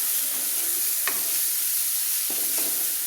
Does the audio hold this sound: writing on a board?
no